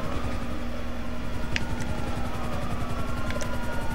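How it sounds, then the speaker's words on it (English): A police helicopter hovering in the game GTA V, its steady rotor drone and engine whine filling the whole stretch, loud and continuous with faint high chirps over the top and no talk. "What do we do about that helicopter?"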